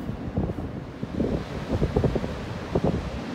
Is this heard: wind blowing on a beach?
yes